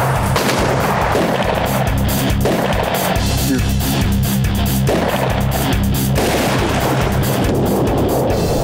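Loud gunfire rings out during a buffalo hunt, with several heavy shots and booming reports echoing outdoors, one after another at close range.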